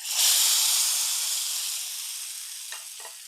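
A hot tempering of curry leaves and dried red chillies hits a jackfruit seed and thazhuthama leaf curry with a sudden loud sizzle that hisses strongly, then gradually fades, ending with a couple of faint stirring clinks.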